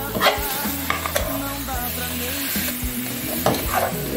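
Food sizzling and frying in a pan while being stirred, a steady crackling hiss with repeated scraping and knocking of a utensil against the pan, close and clear.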